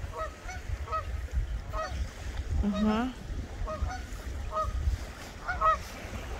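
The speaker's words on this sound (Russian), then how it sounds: "А вон там еще гуси." Several geese honk repeatedly in uneven bursts at moderate distance over wind and low rumbling background in autumn Minnesota, with a brief spoken remark mixed in.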